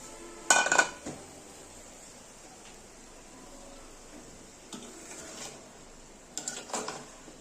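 A utensil scrapes and clinks against a pan while grated coconut and rice flour are stirred for naru, a few brief clattering bursts separated by quieter stretches of faint cooking noise.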